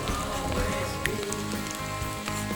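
Steady rain patters over a forest hiking trail in Mark Twain National Forest, a dense hiss of drops striking leaves and ground that carries evenly at moderate volume throughout, with no one talking.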